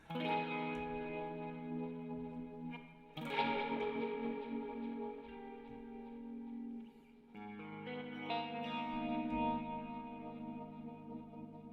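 Electric guitar played through a BOSS ME-90 multi-effects pedal board: sustained chords and notes with chorus, echo and reverb, in three phrases, each ringing out before the next strum.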